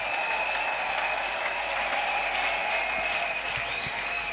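A crowd at an outdoor evangelism campaign in Tshuapa applauds steadily and loudly throughout, dense clapping mixed with cheering voices, with a sustained high whistle-like tone running underneath.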